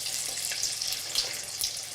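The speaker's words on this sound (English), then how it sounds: "you can kind of hear that bubbling away" Molotes sizzle and bubble in frying oil, a steady hissing crackle with soft pops throughout, close and continuous with no talk.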